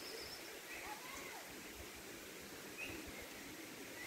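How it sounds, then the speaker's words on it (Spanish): A clear, shallow river flows in a steady, even rush of water, with faint bird calls drifting over it. "Vean ustedes con sus propios ojos que está muy bonito el río."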